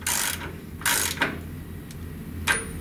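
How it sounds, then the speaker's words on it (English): A ratchet with a 1-inch socket snugs up a brass plug on a truck-mount bypass manifold, giving a few short, sharp clicking bursts separated by pauses, close and fairly loud with no talk. "Using your 1-inch socket and ratchet, snug up the brass plug."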